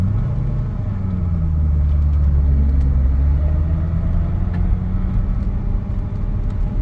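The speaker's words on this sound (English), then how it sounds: "Here's first gear. I'm going to try and get it as close to red line as possible." A Corvette ZR1 engine revs in first gear toward redline, its pitch slowly climbing and sagging in a steady, loud, close rumble with no one talking.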